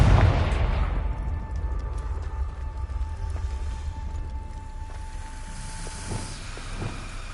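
A blasting spell explodes in the Hogwarts Legacy game with a loud, booming burst that rolls into a long rumbling, hissing decay, alone with no talk.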